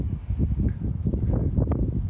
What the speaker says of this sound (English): It's starting to get really windy for the camera too.